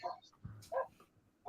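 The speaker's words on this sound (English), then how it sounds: "she hears the dog barking." A few soft, short dog barks and yips sound at a distance, faint and scattered, with a brief low thump between them.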